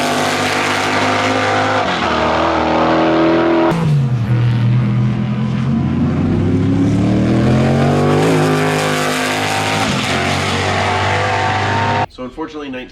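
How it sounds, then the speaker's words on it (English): A McLaren M8F Can-Am race car with a Chevy V8 roars past loudly, its pitch swelling and falling through gear changes across a sustained run, then cutting off abruptly near the end. "listen to the sound of that beautiful M8F McLaren"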